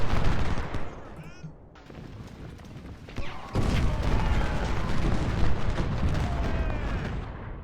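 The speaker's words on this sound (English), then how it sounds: "Oh god, they're cannons." Civil War cannon and musket fire in Ultimate General: Civil War: loud, repeated booming volleys and crackling shots that swell into a sustained barrage after a quieter stretch, with no voices.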